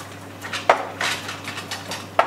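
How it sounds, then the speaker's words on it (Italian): Fried parsley being mixed in a pan for gianchetti fritters with asparagus and pecorino, heard as a series of light scraping and clinking utensil strokes against the pan, with two sharper metallic taps standing out. "Aggiungo all'interno del prezzemolo fritto,"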